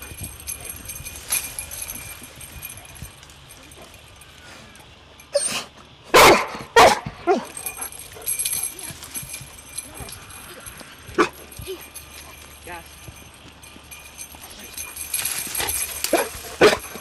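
A search and rescue dog barks in scattered bursts, a few sharp loud barks standing out over a quieter outdoor background with occasional movement noises.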